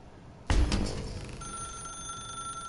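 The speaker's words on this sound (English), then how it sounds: "Now pick up the phone" An old-style telephone bell in The Stanley Parable game starts ringing abruptly after a moment of quiet and keeps trilling steadily, fairly loud, with nothing else heard.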